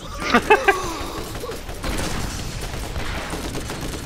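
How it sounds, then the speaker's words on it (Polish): A bazooka fires and explodes in the Borderlands video game: three sharp, loud bursts in quick succession, then a lower rumbling spread of noise from the game. "bazuka wybucha"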